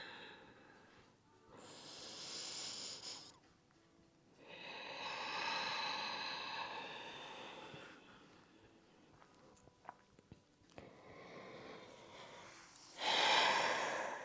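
Deep breaths during a yoga session come as long, soft exhales, heard up close in several slow waves separated by quiet pauses. A sharper breath or snort sounds near the end.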